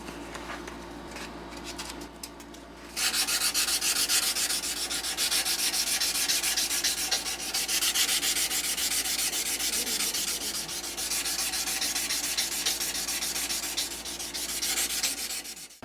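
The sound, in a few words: hand sanding knife handle scales with 320 to 600 grit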